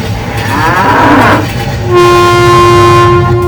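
A train rumbles steadily along the rails, loud and close, and a sustained horn blares over the rumble partway through.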